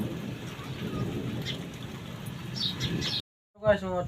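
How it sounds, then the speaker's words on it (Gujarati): Steady rain hisses and patters on a shop for a few seconds, with a low rumble beneath, before cutting off abruptly and a brief voice follows. "હવે જોઈએ વરસાદ ક્યારે પૂરો થાય છે"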